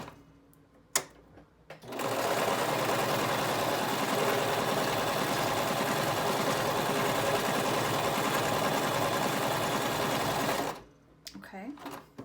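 A domestic sewing machine runs a continuous straight stitch along a jersey fabric edge, a steady close whirring for about nine seconds with brief handling noises before and after.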